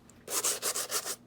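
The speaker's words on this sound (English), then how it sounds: "it's just one of these sanding blocks" A sanding block is rubbed in quick repeated strokes along cardboard edges, about five close, raspy scrapes over a second, with no talking.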